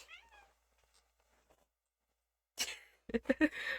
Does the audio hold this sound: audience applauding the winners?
no